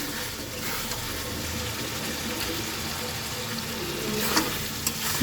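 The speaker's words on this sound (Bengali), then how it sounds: "চিকেন থেকে আমার তেল ছেড়ে দিয়েছে। চিকেনটা ভালো করে কষানো হয়ে গেছে।" Chicken pieces sautéing in oil in a pan for a yogurt chicken dish, a steady close sizzle with faint stirring scrapes throughout, slightly louder near the end.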